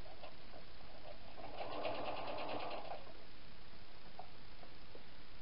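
A sewing machine stitching felt at a 3.5 stitch length, a faint, quick mechanical whir and rapid needle chatter lasting about a second and a half, with a few light clicks before and after.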